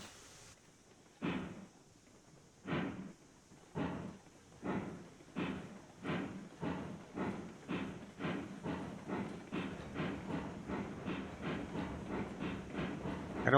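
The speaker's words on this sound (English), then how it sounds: "Oh, this train is so heavy." A heavy train in the railroad game Railroads Online chugs with evenly spaced puffs that start slow and quicken steadily, under a constant faint high hiss, moderately quiet.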